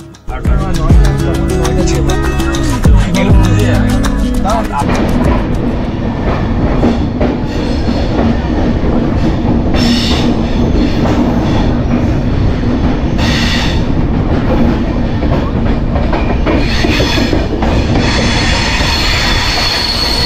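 The Kumbh Express train, travelling from Howrah to Dehradun, runs steadily on rails for the whole stretch, with a loud continuous rumble, rhythmic wheel clatter and bursts of metallic squealing.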